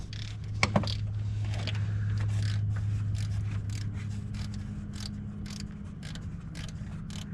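Ratcheting clicks and metallic mechanical rattles as a bolt is worked loose on a car starter in a Nissan S13 engine bay, a couple of sharp knocks early on, then uneven clicking over a low background hum.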